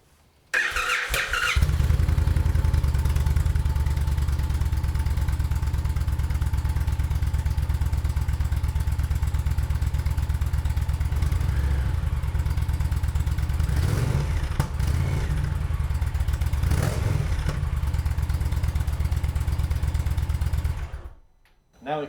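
A 2022 Indian Challenger Dark Horse motorcycle with an aftermarket exhaust starts and idles in a garage, giving a loud, steady, deep rumble with reverberation and a couple of brief blips before it cuts off near the end.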